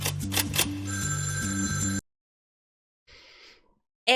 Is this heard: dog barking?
no